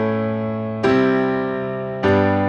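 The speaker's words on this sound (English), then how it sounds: "Block chords sound like this." Piano block chords with both hands striking together, two sustained chords spaced about a second apart, each ringing out and fading before the next attack.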